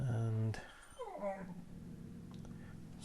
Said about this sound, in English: that's just my dog growling at her reflection in the TV